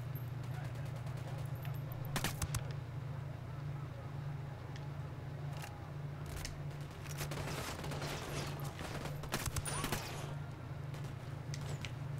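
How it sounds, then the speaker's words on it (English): Gunfire in the video game Ghost Recon Wildlands: scattered bursts of shots and sharp cracks over a steady low engine drone, with players talking. "I hope you guys are shooting."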